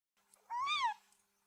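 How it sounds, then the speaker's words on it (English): A single short, quiet cat meow outdoors near trees, rising and falling in pitch and heard alone in otherwise near silence. "A quiet meow near the trees."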